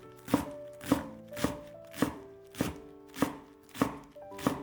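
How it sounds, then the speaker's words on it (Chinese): A knife chops washed chives on a cutting board in slow, evenly spaced strokes, about eight crisp thuds roughly half a second apart. The chopping is close and clear, with nothing else in the background. "韭菜洗干净之后捞出来放在案板上，将韭菜切碎"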